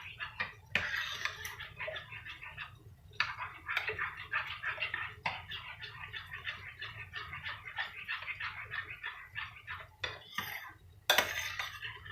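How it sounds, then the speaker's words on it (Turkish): A whisk or fork clinks rapidly against a bowl while ingredients are beaten for bulgur soup, producing steady, fast metallic tapping in close, sustained runs with a few brief pauses. "İyice çırpıyorum"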